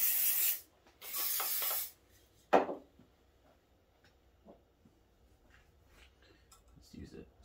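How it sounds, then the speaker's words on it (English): Lubricant is sprayed onto a grommet on a Yamaha Enticer 340 snowmobile engine during a teardown: two close, loud hissing bursts, the second longer, followed by faint handling clicks and quiet workshop rustle. "Just gonna put some spray on there to make it a little easier."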